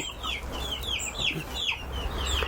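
Local hens and roosters cluck in a series of short, close calls over a low background hum, with the clucks repeating irregularly through the clip.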